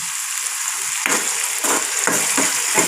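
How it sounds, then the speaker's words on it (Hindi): Chili and spice paste for an aloo matar samosa filling fries in a hot pan with a steady, loud sizzle, broken by a few sharp bursts as the paste is stirred and turned. "मसाले को अच्छे से भून लेंगे।"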